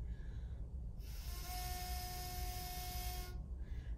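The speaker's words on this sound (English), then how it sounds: "So we have kind of a low pitch there." A homemade harmonica made of craft sticks and straws is blown once, giving a buzzy, reedy low-pitched tone that sustains for about two seconds, faint over background hiss.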